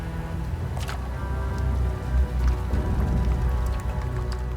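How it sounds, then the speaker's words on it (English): A heavy downpour hisses steadily through rainforest beside the Essequibo River, a dense, continuous patter with a low tonal hum beneath it. "The heavy downpours swell the rivers."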